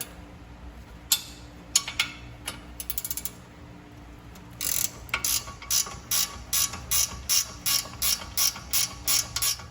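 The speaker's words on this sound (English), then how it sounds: "you're going to take a 13mm wrench to loosen it" A 13mm ratchet wrench loosening the rear brake caliper bracket bolts on a Fiat 500 Abarth: a few short clicking bursts, then a steady run of rhythmic ratchet strokes, close and clear with no talking.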